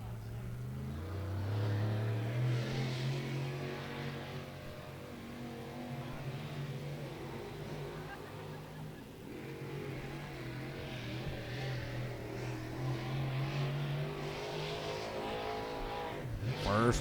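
A Longhorn-chassis race car running a qualifying lap on the high side at Beckley Motor Speedway, its engine droning and shifting pitch as it circles, rising and falling in loudness, with a commentator talking over it throughout.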